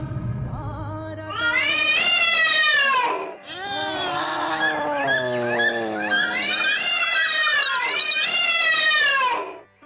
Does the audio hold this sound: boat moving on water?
no